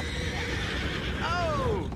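Horses in the Red Dead Redemption II video game neigh and whinny, one clear rising-then-falling whinny standing out over a steady outdoor ambience with faint hoof clopping.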